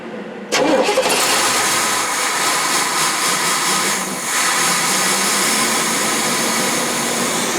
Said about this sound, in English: Give it a little bit of gas. Well, it wants to start up.